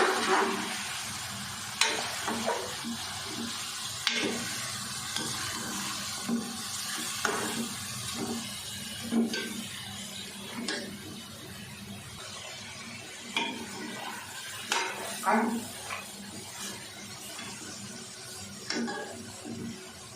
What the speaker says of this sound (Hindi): इसको तेज़ आंच पे अच्छे से फ्राई करते हैं।